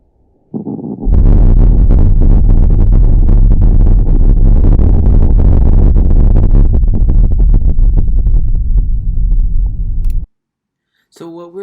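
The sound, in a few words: undersea earthquake recorded by hydrophone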